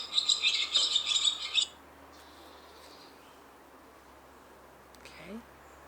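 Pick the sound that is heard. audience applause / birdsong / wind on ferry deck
birdsong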